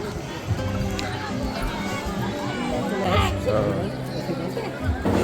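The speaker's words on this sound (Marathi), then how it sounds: "तर आज गर्दी आहे बऱ्यापैकी" A crowd gathered at the Ekvira Devi temple makes a dense, continuous murmur of many voices, with one nearby voice speaking over it.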